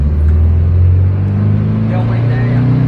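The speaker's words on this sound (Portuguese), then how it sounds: "Deu uma lombada ali na frente, eu vou passar sem frear" A lowered Volkswagen Beetle (Fusca) with no suspension rolls over a speed bump without braking, giving a steady, loud low engine and road rumble from inside the cabin with no clear jolt.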